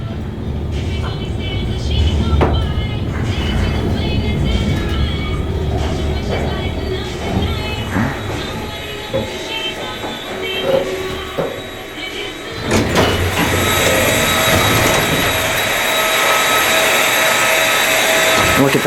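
A 1960s American/Ceder Traffic-Master traction elevator runs in an office building, giving a steady loud mechanical rumble with a clunk and a louder surge of motor noise partway through as the car starts moving.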